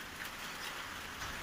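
Rain falls during a motorcycle ride in Assam, heard as a brief, soft, even hiss of drops with no voices over it.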